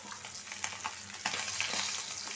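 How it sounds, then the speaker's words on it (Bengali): Tengra fish fry in a pan with a close, crackling sizzle, broken by a few sharper spits and scraping stirs, and growing denser toward the end. "মাছটা ভাজা হোক"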